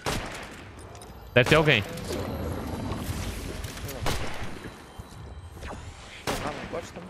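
A computer-controlled bot fires a gun in a video game: a couple of short, loud bursts of gunfire stand out at moments amid steady game noise and a busy mix, while players talk throughout.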